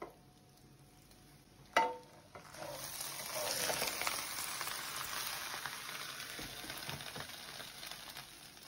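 Anchovies cooking in a covered pan on medium-high heat, Turkish style, give off a steady sizzling fry that swells after a brief clatter and stays fairly loud and continuous, with no talking.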